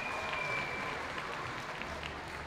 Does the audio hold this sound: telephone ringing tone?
no